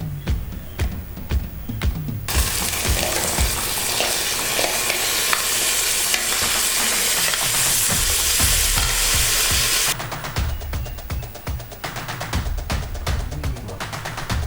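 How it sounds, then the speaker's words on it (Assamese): Rice for polow is stir-fried in a pan on a low gas flame, giving a steady sizzle broken by repeated scraping and stirring strokes, close and fairly loud, with no talk. "এনেদৰে অলপ সময় মই ভাজি ল'ম"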